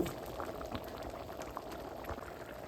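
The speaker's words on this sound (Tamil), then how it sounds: "இந்த தாளிதத்தை கொட்டி கொண்டுவோம்." Hot tempering with asafoetida is poured into freshly cooked lentil dal, giving a soft, continuous bubbling and sizzling. It is quiet and steady throughout, and nobody speaks.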